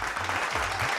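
Brief, dense burst of applause from a studio audience at a singing competition round, steady and even for about a second with no speech.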